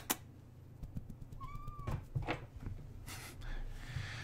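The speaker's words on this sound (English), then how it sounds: "this is my cat" A pet cat named Zuzu lets out a short rising-then-falling meow close by in a quiet room, with a few soft thumps and light rustling around it.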